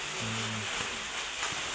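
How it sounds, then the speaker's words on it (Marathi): Steady rain hisses evenly throughout, a continuous wash of drops with no clear voices. "पाऊस पाणी तर बाहेर तर चालूच आहे"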